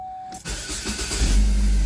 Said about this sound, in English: Car still starts up excellent.